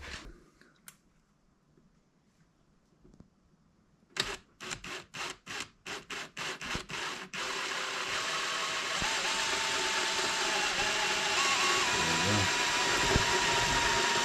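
A power drill whirs in short bursts, then runs continuously and loudly, grinding steadily as it bores a hole for a snorkel kit on a Can-Am Outlander ATV.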